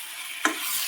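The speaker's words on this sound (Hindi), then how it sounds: "अब इसको अच्छे से भून, तो अच्छे से भी ये भून चुके हैं आलू" Potatoes stir-frying in a pan, a brief steady sizzle with a single sharp spatula scrape partway through.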